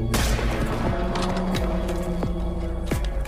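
Several sharp gunshots fired into the air in Better Call Saul ring out at irregular intervals, each with a quick booming decay, over a steady low hum.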